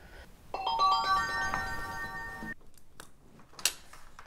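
A telephone ringtone plays a bright melodic electronic tune for about two seconds, then cuts off, followed by a few soft handling clicks near the end.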